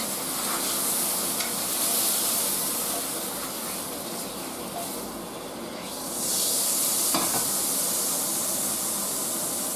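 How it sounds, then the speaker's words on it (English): Sausage fries in a pan with a steady, close, loud sizzle and hiss that swells and eases slightly, with no voices. "the sausage can go in"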